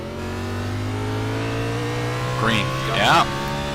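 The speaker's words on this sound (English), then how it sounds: "Let's listen to the engine here." A race car engine at a restart in the Las Vegas 255 holds a steady idle hum, then rises in a couple of quick revving surges near the end, with talk over it.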